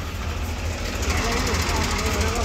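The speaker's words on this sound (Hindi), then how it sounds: "अरे सर ट्रैक्टर को एक बार बंद कर दे।" A 2011-model farm tractor sits idling close by, its diesel engine giving a steady low, knocking rumble throughout with a faint voice underneath.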